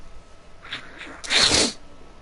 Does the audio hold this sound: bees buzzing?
no